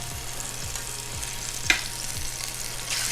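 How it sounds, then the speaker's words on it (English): Food sizzles steadily in a hot pan, a continuous bright hiss with one small pop partway through and a faint low hum underneath. "So right there, got our sizzle that we're looking for."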